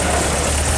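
Diesel engine of a 1964 Land Rover idling, a loud, steady low rumble with no change in pace over a brief stretch and no other sounds over it.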